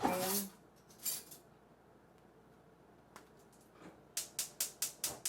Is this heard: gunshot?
no